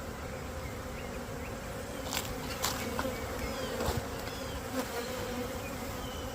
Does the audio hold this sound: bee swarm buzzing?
yes